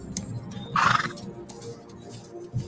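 A horse gives a loud, short neigh partway through a fan film scene that has several horses, with quieter background rumble before and after.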